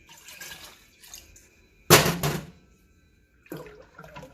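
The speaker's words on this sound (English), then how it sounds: "you're going to quickly pour it into your pot and stir" Citric acid solution poured into a pot of milk for mozzarella, then stirred: short splashing pours and liquid swishes in separate bursts, the loudest one near the middle, with quiet gaps between.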